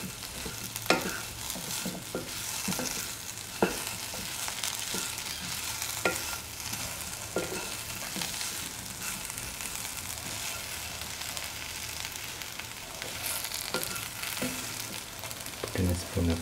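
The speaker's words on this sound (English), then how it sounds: "keep on mixing and sorting all the ingredients thoroughly" Okra and taro root stew frying in a pan while being stirred, a continuous sizzle with repeated scraping and clinking strokes of the spoon throughout.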